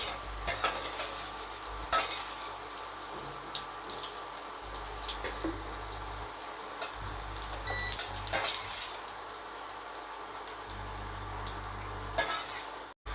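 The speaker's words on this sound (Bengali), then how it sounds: "পেঁপেটা হালকা লাল লাল করে ভাজা হয়ে গেছে।" Papaya pieces fry in oil in a kadai for a papaya curry, a steady close sizzle with occasional scrapes and knocks of the stirring spoon throughout.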